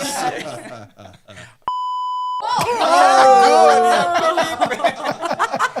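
A single steady censor beep tone lasts under a second between bursts of voices, followed by groaning, laughing vocalizations.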